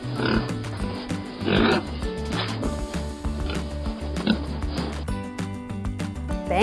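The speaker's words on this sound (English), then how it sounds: "Pig." A pig oinks and snorts in a run of short grunts over a backing of bright, rhythmic music.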